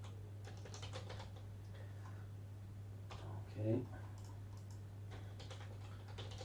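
Terminal commands being typed on a computer keyboard while updating ArcoLinux, with a steady run of light, close key clicks throughout and a brief spoken word partway through.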